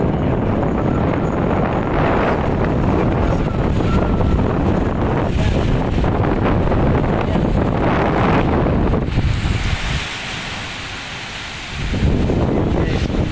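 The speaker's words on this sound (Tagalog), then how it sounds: "Ayan, mahangin na." Strong gusty typhoon wind in Hong Kong, under signal 8 to 10, roars into the microphone, dropping off briefly near the end before surging back.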